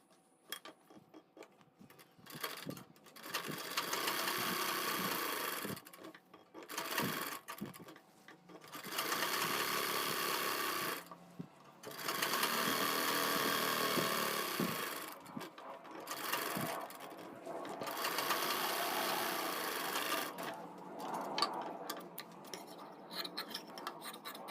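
A sewing machine stitches along a kurti collar in repeated bursts of fast, whirring motor and needle clatter, separated by short pauses, close and clear with no talk.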